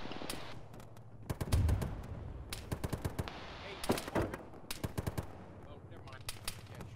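Blind probing gunfire in the ShackTac Arma video game: bursts of automatic rifle fire and single shots crackle in clusters, some close and loud, others thinner and distant, with voices talking in between.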